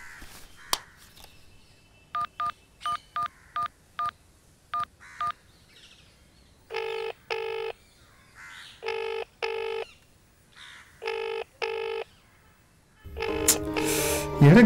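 A telephone keypad dialing a number: a run of short, evenly spaced tone beeps, then longer paired tones in small groups, clear and close, ending in a burst of louder noise.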